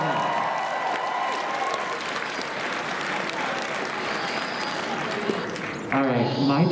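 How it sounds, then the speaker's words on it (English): An audience at a cosplay contest applauds the contestants with sustained, fairly loud clapping, then a voice comes in over the tail end near the close. "Can we give it a round of applause for all the contestants real quick?"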